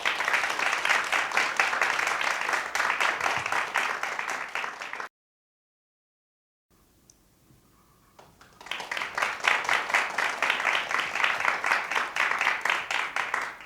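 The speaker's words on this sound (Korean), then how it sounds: "큰 박수 부탁드리겠습니다" An audience at a Korean traditional dance forum applauds a presenter taking the stage, giving dense, loud clapping that breaks off into silence midway, then returns with a faint murmur before swelling back to full applause.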